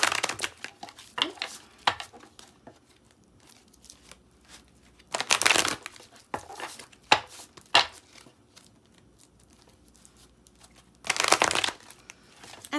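Oracle cards handled during a tarot reading, with short bursts of close shuffling, riffling and card slaps separated by quiet gaps, soft crinkles in between.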